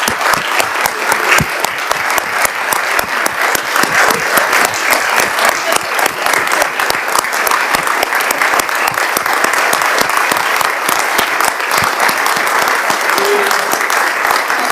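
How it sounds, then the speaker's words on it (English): Members at a Devon County Council budget meeting give a retiring finance officer a long round of applause, many hands clapping densely and loudly without pause. "I'd like to express thanks on behalf of the membership and give you a round of applause for everything you've done"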